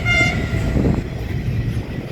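A freight train hauling paper from Maryvale in Gippsland, bound for Melbourne, sounds its horn with one short, loud blast at close range, followed by a heavy rolling rumble as it passes.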